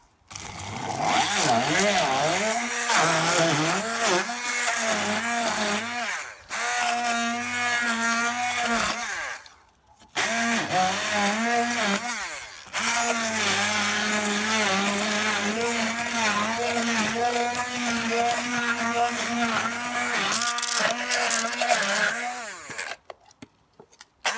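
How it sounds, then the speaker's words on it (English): An electric mixer whirs loudly as it blends immune booster drink ingredients, running in long sustained bursts with brief pauses and the pitch wavering as the load shifts. "And then with a mixer, get all a good mix."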